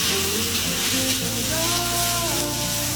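Beef pieces hit a hot wok over oil with ginger, garlic and scallion, setting off a loud, steady, close sizzle and crackle that fills the whole stretch without a break.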